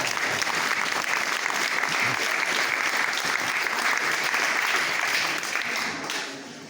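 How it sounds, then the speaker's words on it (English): An audience at an art exhibition gives a dense, sustained round of applause for a crafts foundation, loud and even throughout before tapering off in the last moment. "I'd like to give a round of applause for the Catherine Forrest."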